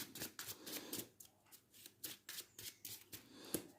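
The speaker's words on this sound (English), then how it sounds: "And of course we shuffle our deck." A deck of Yu-Gi-Oh! cards being riffled and shuffled in a series of quick, crisp bursts, repeated rhythmically about a dozen times, close up with no talking.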